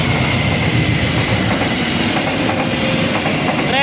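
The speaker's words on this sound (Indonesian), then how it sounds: "Kereta api tambahan YK Gambir yang melintas dulu." A passenger train rumbles past a level crossing close by, a steady dense roar with metallic clatter and a faint high squeal rising near the end.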